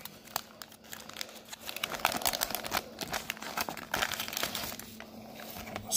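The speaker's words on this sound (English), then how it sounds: "I figured I'd do my minute with MB and rip this pack" Foil wrapper of a 1987 Topps baseball card pack torn open and crinkled up close, a steady run of sharp crackles and rips over about six seconds.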